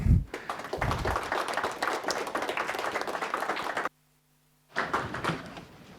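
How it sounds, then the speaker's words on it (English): Audience applause breaks out after a speaker is introduced at a talk on peace in Sudan at PRIO, a dense burst of clapping that runs for several seconds, cuts to silence, then resumes. "Please give a great applause."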